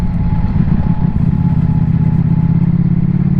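Ducati Panigale V4 engine while riding on the road, a loud, steady, throaty rumble close up with a constant drone and no pauses.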